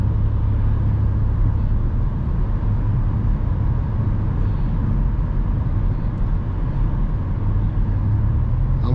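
Road traffic from inside a car pulling out onto a thoroughfare, a steady loud low rumble of engine and passing cars with no distinct individual pass-bys, continuous throughout.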